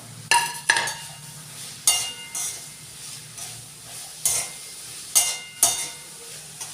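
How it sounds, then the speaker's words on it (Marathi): Cooked abai bean-pod vegetable is stirred with fresh coriander in a pan: about eight sharp scraping strokes of a spoon against metal, set over a faint, low sizzle, with no voices. "आपण कोथिंबीर टाकून देऊया आणि मिक्स करून देऊया"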